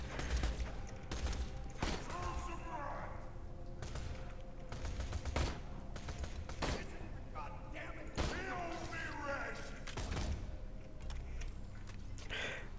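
Gunfire in the Borderlands 2 video game rings out in repeated sharp bursts and single shots over a dense wash of game noise, with a voice mixed in at times.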